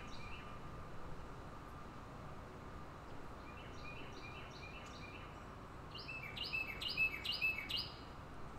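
Small birds chirp outdoors in quick repeated tweets, fairly faint and a little distant, over a steady broadband background hiss, with the calls clustering louder near the end.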